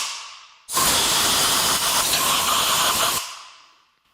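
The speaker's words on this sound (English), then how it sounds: "I need to get the air to get this stuff out." Compressed air blasts loose debris out of a BMW/Mini Cooper S N18 engine during teardown, one loud continuous hissing burst lasting about two and a half seconds, close and steady, with no talk.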